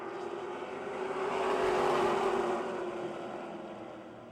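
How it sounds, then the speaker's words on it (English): NASCAR Super Late Model race cars on an oval track at Motordrome Speedway roar as a broad, steady engine drone that swells to a peak mid-pass and then fades slightly, with no talk over it. "Sean Pilla in car number 5. Now slowing as he exits turn 2 after grabbing an early lead"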